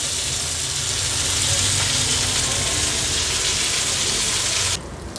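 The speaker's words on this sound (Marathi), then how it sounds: "नंतर उरलेल्या तुकड्या पण अशाच फ्राय करून घ्यायच्या आहेत." Pieces of black pomfret fry in a pan with a steady, loud, close sizzle that holds evenly for nearly five seconds before dropping off abruptly.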